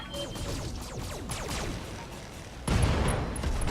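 Battletech mech weapons fire in a rapid volley of sharp shots and whooshing impacts, then a sudden louder boom as an LRM ammo store explodes and keeps roaring to the end.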